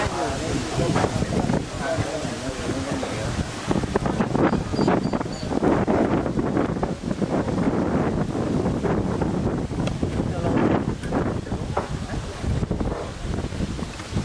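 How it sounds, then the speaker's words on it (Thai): Strong wind buffets the microphone during a mini-marathon run in Sing Buri, a loud, continuous rushing roar with gusty surges throughout, and voices faintly mixed in. "ช่วงนี้ก็ลมแรงฮะ ลมระบึงไปหมด ลมแรง"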